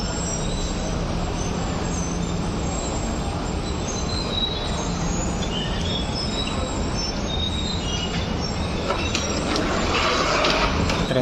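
The Bengawan passenger train runs on its rails with a loud, continuous rumble and clatter of wheels and carriage. High squeals and screeches rise near the end, and no voices are heard.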